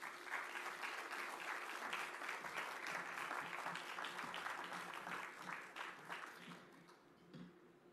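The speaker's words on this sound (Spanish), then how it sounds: "E igualmente despedimos a nuestros panelistas con un fuerte aplauso." Strong, sustained applause sends off a panel at a Panamanian government transparency event, dense clapping from a crowd that is faint in level and tapers off toward the end.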